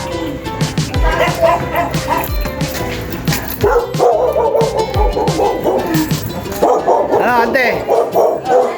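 A dog barks and yips repeatedly in an outdoor home setting, close and loud, with short whimpers between the barks, while people talk over it.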